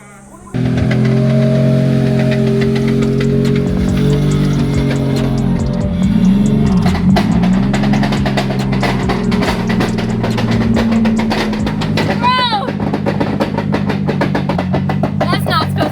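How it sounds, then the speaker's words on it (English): A drift car with a broken gearbox drones loudly and continuously on track in Japan, its engine note wavering in pitch with rough grinding and rattling layered through it, close and steady throughout. "First session out, that fun noise is the gearbox."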